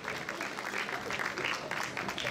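Applause from the audience at a cosplay contest, a continuous crackle of many hands clapping, fairly soft and distant, with a faint crowd murmur beneath it.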